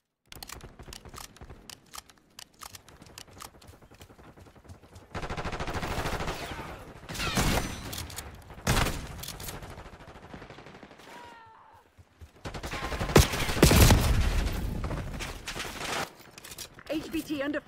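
Gunfire in Black Ops 6 comes in bursts of rapid automatic shots with sharp cracks, separated by quieter stretches, and a voice speaks between the volleys.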